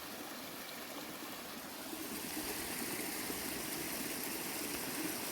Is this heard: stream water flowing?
yes